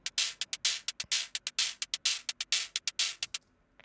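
Synthesized TR-606-style hi-hat with a final high-pass filter stage, playing a fast rhythmic pattern of short crisp ticks mixed with longer open hits, bright and close, ending in a brief fading tail.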